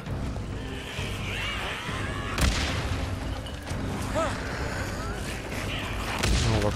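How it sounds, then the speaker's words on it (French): Pipe bomb explosions in the video game Days Gone, several heavy booms and sharp bangs scattered through a noisy horde fight, with someone talking between the blasts. "Je prends une petite bombe tuyau."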